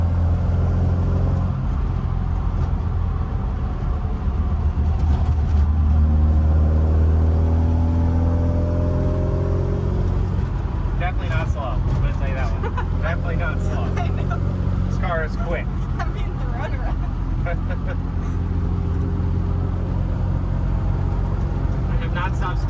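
A small 1959 Austin Healey Sprite drives along a road, its engine a steady low drone with a rising rev partway through, heard from inside the car under nearly continuous conversation.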